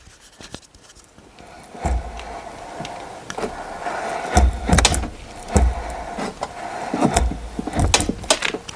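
Soft mechanical rubbing and clicking as a new door check works while an Opel Astra H or Zafira B car door is swung open and shut a few times, with dull thuds at the stops.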